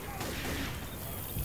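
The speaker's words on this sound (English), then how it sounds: "Reloading!" Weapon reload in Left 4 Dead 2 during a heavy rainstorm in Milltown: mechanical clicks and ratcheting of a magazine and action over a constant wash of rain noise, brief and close.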